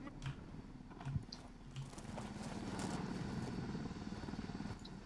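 Helicopter in the video game Ghost Recon Wildlands, a close, steady rotor chop that thumps rhythmically and grows slightly louder, with no voices over it.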